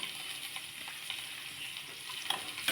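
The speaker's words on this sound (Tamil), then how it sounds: "வெங்காயத்தை போட்டு நல்லா வதக்கி விட போகிறோம்" Onion fries in a pan for a cabbage curry, giving a steady close sizzle with small crackles and stirring clicks throughout.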